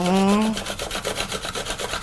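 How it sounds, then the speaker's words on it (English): Onion being grated on a handheld grater while preparing a baby's meal, a steady series of close, rhythmic rasping strokes after a brief voiced sound at the start. "grate our onion"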